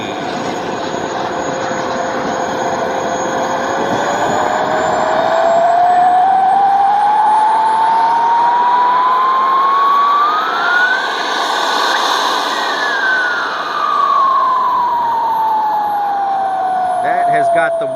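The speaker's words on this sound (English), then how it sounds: "That's got to be the weirdest sounding turbine I've ever heard in my life." A Yak 130 model turbine jet flies past at a model aircraft event, its odd whining turbine tone rising steadily in pitch as it approaches, peaking, then falling away, loud and sustained with a voice talking faintly over it.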